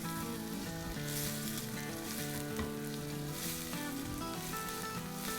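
Chopped onions, cut slightly large, sauté in a pan with a steady, fairly loud sizzle that runs throughout beneath prominent background music.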